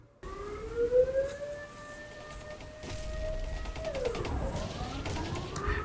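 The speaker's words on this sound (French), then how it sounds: "on a les sirènes qui sonnent dans les rues." Civil defense sirens sound across Amsterdam streets on the first Monday of the month, a steady rising wail that holds, then slides down in pitch near the end, carrying at moderate loudness over distant street noise.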